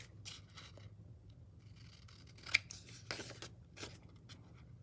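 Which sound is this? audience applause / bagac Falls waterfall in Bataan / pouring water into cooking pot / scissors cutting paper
scissors cutting paper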